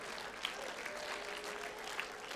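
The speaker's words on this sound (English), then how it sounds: "Can we give a round of applause to God and God alone?" Applause from a church congregation during a sermon: a soft, steady wash of many hands clapping, heard faint and somewhat distant, with a few sharper claps standing out.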